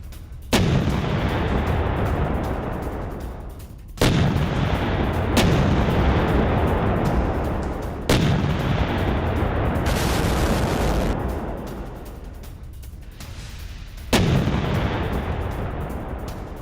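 Ukrainian artillery fires on Russian positions in a combat operation: four heavy, loud booms spaced a few seconds apart, each rolling away in a long, rumbling decay with no voices.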